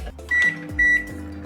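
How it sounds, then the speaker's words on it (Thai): A microwave oven heats a ready meal, its low hum running steadily and broken by two short high electronic beeps close by. "เปิดฟิล์มพลาสติกออกและอุ่นในไมโครเวฟ"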